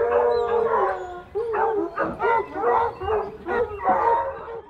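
Dog at a junkyard howls in a series of drawn-out, wavering cries with short yips between them, close and loud, repeating about six times.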